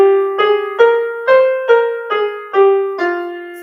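A piano plays a five-finger minor scale, its single notes stepping up and back down one by one at an even, moderate pace. The notes are clear and close, with no talk.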